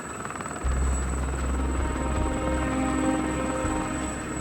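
A helicopter hovers during a test flight with an inspector aboard, its rotor and turbine making a loud, steady drone with a constant high whine.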